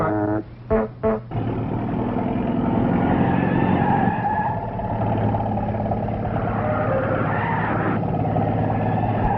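Truck driving past outdoors, a loud sustained engine roar with tire noise close by, preceded by a couple of brief horn-like tones.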